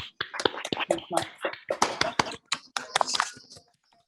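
A small audience gives a speaker scattered, uneven clapping at a talk, with individual hand claps standing out close by and some voices mixed in before it fades out.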